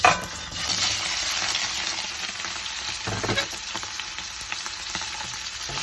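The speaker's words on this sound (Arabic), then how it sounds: "حطينا الزيت وسيبناه طبعا يسخن. هبدا اول حاجه انزلها هي الصدوق." Sausage (sodouk) frying in hot oil in a pan, a steady close sizzle with bursts of spattering and a few stirring scrapes, no voices.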